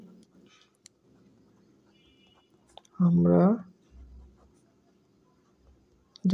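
A pen scratches out an algebra formula in faint, intermittent strokes against a quiet room, broken midway by a short burst of a voice.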